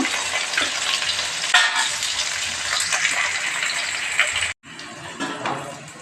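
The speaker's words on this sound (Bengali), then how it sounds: "পেঁয়াজগুলোকে একটু হালকা ভেজে নেবো" Onions lightly frying in a pan, a steady close sizzle with a few stirring scrapes, briefly cutting out near the end before resuming.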